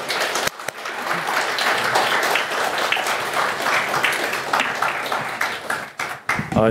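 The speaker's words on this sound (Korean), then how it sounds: "박수로 환영하겠습니다" A church congregation welcomes a speaker with warm, steady applause that swells and then tapers near the end, briefly broken by a voice.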